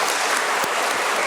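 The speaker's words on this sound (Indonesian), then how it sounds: "Ya, kita tepuk tangan." Dense, steady applause from a church congregation at a First Communion service, filling the whole short stretch with loud, even clapping and no voices.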